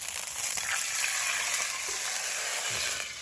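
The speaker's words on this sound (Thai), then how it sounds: "เมื่อเรารอกระทะเดือดนะเราก็เนี่ยเทน้ำเลย" Loud, steady hissing sizzle of water poured into a very hot pan at a forest campsite, a continuous bright crackle with no talking.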